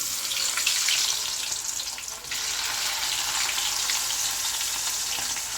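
Garlic, ginger and shallots fry in hot oil, a dense, steady close sizzle with a brief dip partway through, then a constant hiss with no talking.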